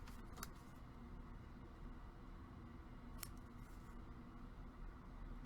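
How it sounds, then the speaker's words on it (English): Two crisp scissor snips cutting corners of craft material, one near the start and one about three seconds later, close and quiet against a faint background hum. "I'm going to have to snip the corners."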